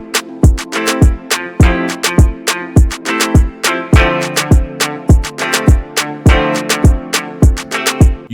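A programmed drum pattern with a couple of extra claps added, punchy kicks and sharp claps repeating in a tight, syncopated groove, loud and alone.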